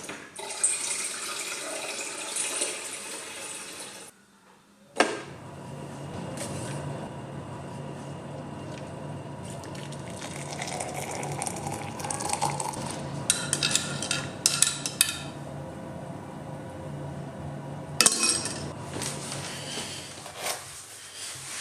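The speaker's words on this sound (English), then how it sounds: "making a cup of tea in the morning" Water runs from a kitchen tap for a steady stretch during morning tea-making, with brief clinks of cups and a spoon near the start and end; the kitchen is otherwise quiet and no one speaks.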